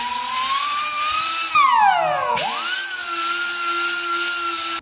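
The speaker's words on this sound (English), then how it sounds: "And grinding it down real good, help it stick too." A grinding wheel working the inside of a semi truck tire to prepare it for a patch, a high, close tool whine that drops in pitch under load and then climbs back, steady and loud.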